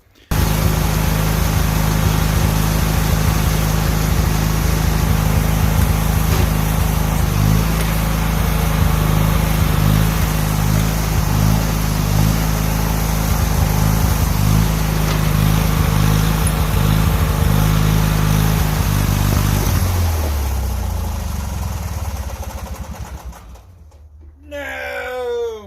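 A small race engine runs loud and close, a steady buzzing drone with a rough low throb that holds for about twenty seconds before dropping off and fading, followed by a brief mechanical rattle.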